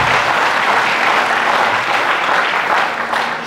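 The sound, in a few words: applause from an audience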